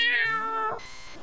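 A person imitating a cat with a single drawn-out vocal meow, close and fairly loud, its pitch sliding and fading away at the end, with no other sounds.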